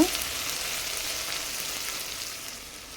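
Onions and a long-cut tomato sautéing in a pan for beetroot biryani, a steady moderate sizzle that begins with a brief clatter and slowly fades a little, no talking.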